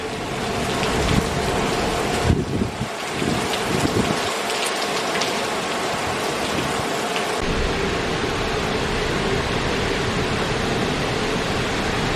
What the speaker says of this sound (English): It's just heavy rain.